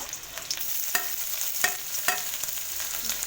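Garlic, ginger, green chillies and onions frying in a little oil in a bowl-shaped pan, a steady soft sizzle broken by sharp periodic stirring clicks about every half second, close and with no talking.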